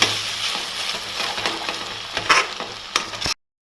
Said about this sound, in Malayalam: അരച്ചു വെച്ചിരിക്കുന്ന അരപ്പിട്ട് കൊടുക്കാം നമുക്കിത് ശരിക്കൊന്ന് മിക്സ് ചെയ്യാം